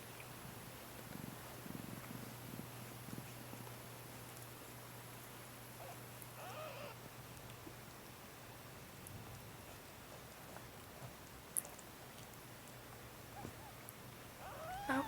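A cat purring while giving birth indoors, a faint low continuous purr throughout, with occasional small rustles and clicks close by.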